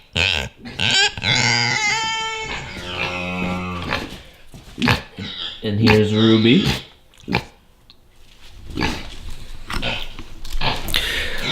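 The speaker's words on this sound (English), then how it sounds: "So they're both potbelly pigs." Two large pet potbelly pigs, around 170 pounds each, grunt and snuffle up close inside a dim house while a person talks over them.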